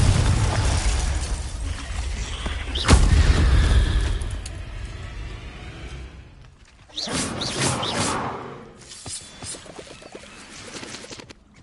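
A Confringo fire spell blast in the game Hogwarts Legacy, a sharp loud boom near the start with a rumbling tail, then further crackling bursts of spell effects amid game sounds.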